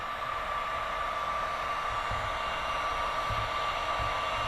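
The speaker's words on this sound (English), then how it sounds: "I just take my old heat gun here and just start heating this old mold" An old heat gun blows hot air onto the old molding of a 1995 Chevy Z71 truck, a steady, loud, close whooshing hiss with a faint tone running through it, no talk.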